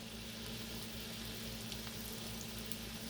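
Buttery burgers fry in a large enameled cast iron pan, a dense, even sizzle that holds steady throughout, close and continuous with no talk.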